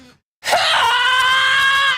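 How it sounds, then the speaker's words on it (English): The Howie scream, a stock scream sound effect: after a short pause, a single loud, sustained shriek bursts in and holds at full strength for over a second with no other sound. "That screech was a popular soundboard item. The Howie scream."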